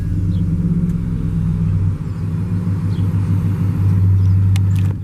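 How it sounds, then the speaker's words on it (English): A 2016 Ford F-250 Lariat Super Duty 4X4 pickup engine runs at a steady, loud idle, a continuous low rumble with a brief dip near the start, close and with no talking. "But we'll go ahead and start it."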